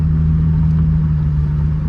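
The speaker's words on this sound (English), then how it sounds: "The car definitely does pull" Chrysler Crossfire fitted with aftermarket modifications accelerating, a loud steady low engine drone with a strong humming tone, heard up close from inside the car.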